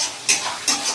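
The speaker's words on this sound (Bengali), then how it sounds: "এই যে আদা রসুনটা একটু ভাজা হয়ে যাচ্ছে" Ginger and garlic frying in a pan, a soft continuous sizzle broken by two brief scraping stirs, close and moderately loud.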